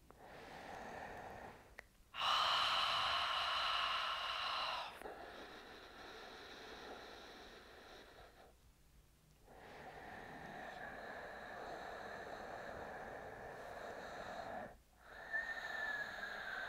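Ujjayi ocean breathing through the nose with a contracted throat during pranayama practice: long, hissing, wave-like inhalations and exhalations, close and fairly loud, separated by brief pauses.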